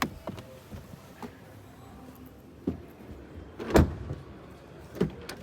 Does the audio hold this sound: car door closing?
yes